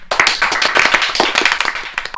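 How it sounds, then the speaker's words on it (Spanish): Rapid hand clapping close up, loud and steady, a quick run of sharp claps lasting about two seconds with no talking over it. "¿Por qué aplaudes?"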